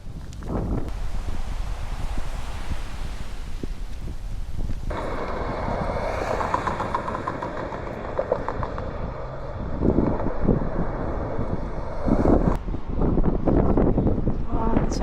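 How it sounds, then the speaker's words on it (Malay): Strong wind gusts buffet the microphone outdoors by a waterfront with a drawbridge and ships nearby, a steady rushing roar across the whole stretch with surges, and people talking intermittently beneath it. "Angin kuatnya."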